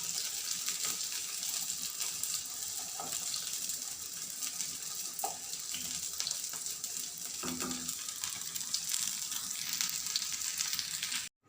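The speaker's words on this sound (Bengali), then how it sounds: "ইফতার করার জন্য এগুলি ভেজে নিলাম।" Food frying in a pan in a home kitchen in Dubai, a steady soft sizzle with faint stirring clicks and scrapes throughout, alone with no speech.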